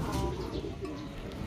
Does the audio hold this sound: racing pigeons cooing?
yes